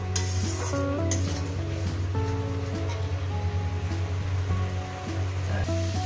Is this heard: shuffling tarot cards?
no